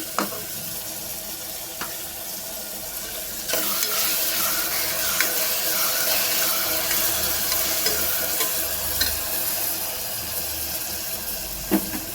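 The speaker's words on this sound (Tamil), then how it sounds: "வெங்காயத்துக்குள்ளே குடமிளகாவும் போட்டு நல்லா வதக்கிட்டேன். தக்காளியும் நல்லா வதக்கின்னு இருக்கேன்." Onion, capsicum and tomato sauté in a pan for a mushroom biryani, a constant loud sizzle close by with occasional clinks of stirring and no talking.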